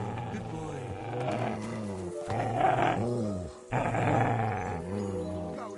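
Deep, rumbling growls from a dog in the video game Kingdom Come come in three long, throaty bursts, loud and close, with a voice mixed in among them.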